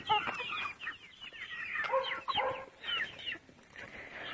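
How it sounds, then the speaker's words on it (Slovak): Ordinary village hens cluck close by in quick, busy bursts of chatter, a flock calling over one another with no people talking. "Aj tu sliepky."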